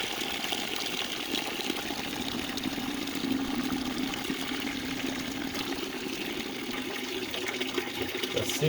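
Steady gushing of dirty water draining from a heat pump's hydronic heating loop, a continuous close rushing flow with no talking.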